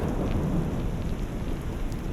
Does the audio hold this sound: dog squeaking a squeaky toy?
no